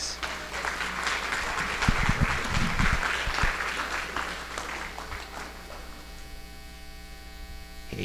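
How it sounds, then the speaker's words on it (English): Scattered applause from an audience at a family day event, a loose burst of clapping over a persistent electrical hum that fades into the hum alone. "Can you give a round of applause"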